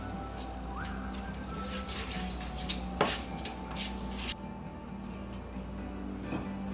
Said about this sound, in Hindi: बस हल्दी को हमें थोड़ा सा हिलाना है कि उसका कच्चापन दूर हो जाए।